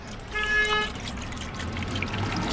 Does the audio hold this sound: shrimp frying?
no